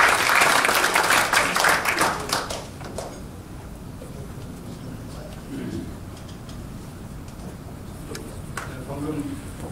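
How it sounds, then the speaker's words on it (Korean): Audience at a June breakfast lecture forum greets a speaker with loud applause that fades after a couple of seconds, leaving murmuring and a voice talking. "큰 박수로 나눠주시기 바랍니다"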